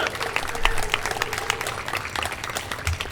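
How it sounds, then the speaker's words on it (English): Audience applause after a performer finishes at a stage event, steady dense clapping filling the room from start to finish, fairly close, with no talk over it. "Let's give another round of applause"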